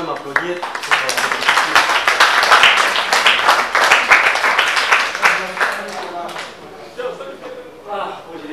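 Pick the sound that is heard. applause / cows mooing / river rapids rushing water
applause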